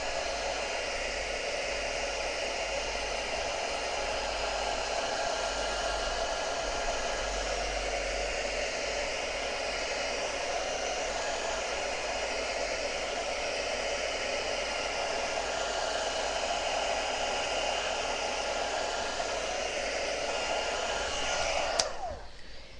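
A hair dryer blows steadily at close range to dry a painting, a constant loud whooshing roar with no talking, cutting off near the end.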